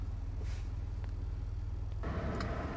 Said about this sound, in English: Okay, let's take this for a little test drive.